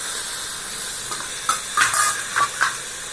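Chayote, cabbage and potato sizzle and get stirred in a hot pan, with a steady frying hiss broken by several brief scraping, clattering stir strokes toward the end.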